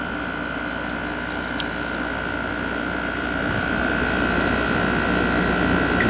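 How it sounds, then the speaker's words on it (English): A vintage Emerson Quiet Kool window air conditioner runs with its compressor humming steadily, a constant droning tone over a busy mechanical rumble that grows slightly louder toward the end. "The compressor really runs nice in this."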